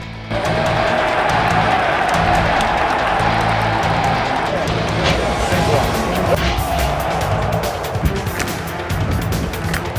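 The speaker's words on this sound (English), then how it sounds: "And now Joe was getting the WrestleMania crowd fired up" A WrestleMania 41 arena crowd roaring and cheering during Randy Orton's match, a loud continuous wash of voices with brief spikes of noise, heard from within the stands.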